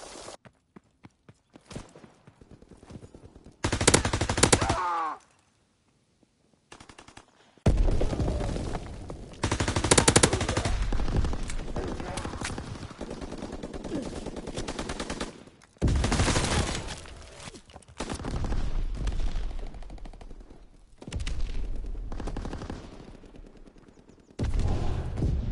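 Sniper and machine-gun fire crackle through a World War-style video game challenge, with loud bursts and sharp single shots coming in clusters and a brief near-silent gap, no talk over it.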